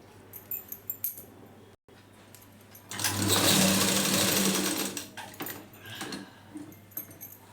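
A sewing machine stitching a blouse sleeve: light clicks and handling noises, then a loud close whirring run of about two seconds before tapering into scattered clicks.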